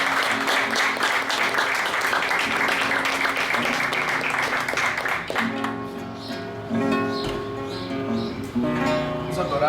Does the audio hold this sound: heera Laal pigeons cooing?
no